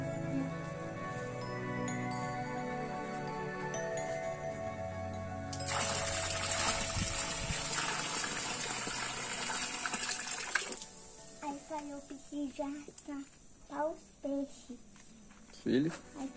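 Water is poured into a marine aquarium in a strong, hissing gush lasting several seconds, then stops and gives way to someone talking nearby.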